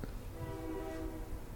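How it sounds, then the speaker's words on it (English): A cargo train's horn sounds in a sustained, faint, distant blast over a low rumble of rolling railcars. "it's a cargo train."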